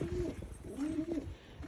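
Pigeons coo repeatedly inside a loft of young and older flying birds, soft throaty calls overlapping close by with a faint steady hum behind.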